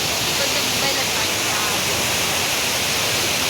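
River water rushes steadily past the Veerapandi Amman temple, a loud, close, unbroken wash of broadband noise with no pauses.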